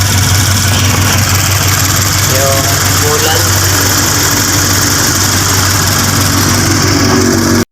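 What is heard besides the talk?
Toyota 86 engine idling, exhaust sound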